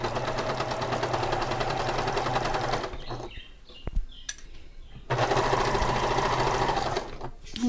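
A sewing machine stitches a pillow sham in a fast, loud run, stops for about two seconds with small handling sounds, then runs steadily again.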